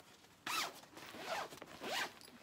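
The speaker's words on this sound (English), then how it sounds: "I gotta get the little string out of the zipper here." The zipper on a black JanSport double-zip backpack is pulled three times in quick, rasping strokes, close and clear with no one talking.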